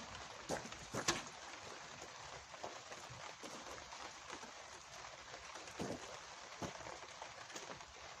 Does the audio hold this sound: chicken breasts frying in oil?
no